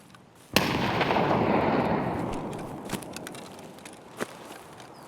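A grenade detonates in the Escape From Tarkov shooter game with a sudden loud blast that decays into a long rumbling roar over several seconds, followed by a few sharp cracks.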